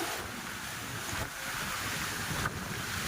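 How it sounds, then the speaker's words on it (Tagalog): Big waves roll on a lake at a fishing spot, a continuous rushing wash of water mixed with gusty wind buffeting the microphone, with a few brief surges. "Malalaki masyado ng alon."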